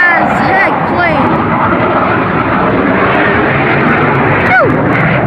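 A Blue Angels jet screams low over an air show crowd, its loud engine roar sweeping past with sliding, falling pitch, while nearby spectators talk beneath the noise.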